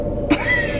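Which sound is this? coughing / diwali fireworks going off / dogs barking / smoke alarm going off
coughing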